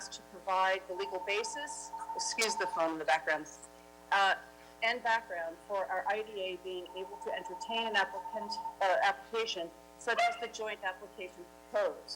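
A telephone rings in the background of a town board meeting, a thin steady tone in two separate bursts, faint beneath a man's continuous speech.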